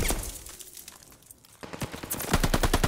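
Machine gun fire rattles at the hardpoint in Call of Duty: Vanguard: a loud burst, a brief lull, then another sustained stream of fast, evenly spaced shots that grows louder toward the end.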